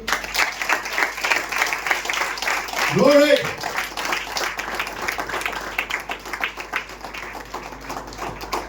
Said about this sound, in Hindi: स्तुति की ताली देंगे।